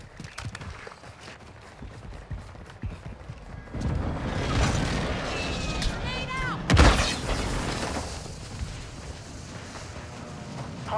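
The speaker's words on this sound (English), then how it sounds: "Hostile airstrike near your location." Airstrike explosions in Warzone 2 on Ashika Island: quieter gunfire and rumble at first, then a heavy sustained blast from about four seconds with a sharp loud impact near seven seconds, followed by lingering roar and debris.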